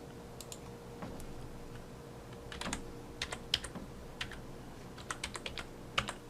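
A file name is typed on a computer keyboard while saving a cup texture in 3ds Max: bursts of crisp, close key clicks in short uneven runs, growing busier toward the end over a quiet room hum.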